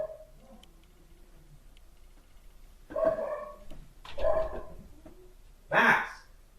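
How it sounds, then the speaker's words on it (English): A pet dog named Max barks from downstairs in a house, three separate muffled yelps spaced a second or so apart, the last one sharper and louder, with quiet room noise in between. "my dog is barking downstairs"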